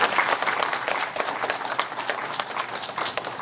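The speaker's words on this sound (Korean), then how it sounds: "다시 한번 큰 박수로 환영해 주시기 바랍니다" Applause from an audience at a Sunchon National University medical forum, dense steady clapping filling the room for a few seconds without a break, no voices over it.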